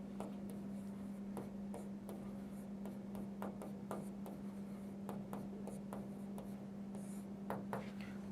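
Pen or marker writing out a matrix formula during a maths lesson, a steady run of short scratchy strokes and taps over a constant low hum, close and fairly quiet, with no talking.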